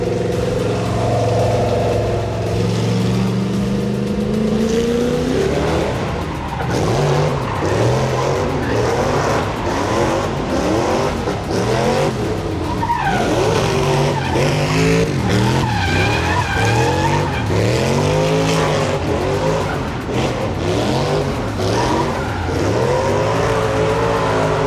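A drift car slides in long skids, its tires squealing in wavering, sweeping tones over a loud revving engine throughout, with no talk.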